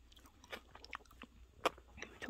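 Quiet, close chewing of a convenience-store cookie and cheesecake, soft moist bites with a few small crunchy clicks, no talking.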